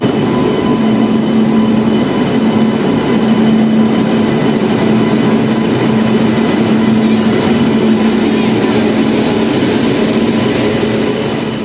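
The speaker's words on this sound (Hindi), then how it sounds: "ट्रेन आ गई है, चलते हैं अमृतसर" A passenger train pulls into a station on a route toward Amritsar, a loud steady rumble of rail cars with a sustained squealing tone running through the whole stretch, no voices.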